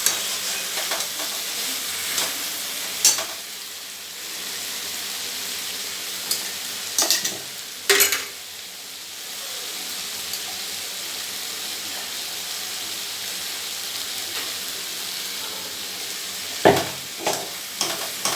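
A large onion sautés in a pan for begun sorshe, a continuous loud sizzle broken by scraping stirs and spatula knocks at intervals, close up with no talking.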